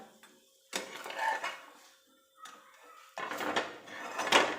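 Pan-roasted bhagar and potato for a fasting dish, golden on the underside, is lifted onto a plate: a few separate bursts of metal spatula scraping and utensil clatter, close and moderately quiet, with short pauses between.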